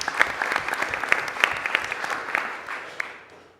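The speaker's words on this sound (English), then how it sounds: "Let's give them all another round of applause." A room of people claps for a list of student athletes at a committee meeting, with separate hand claps audible inside the fairly dense applause, which tapers off toward the end.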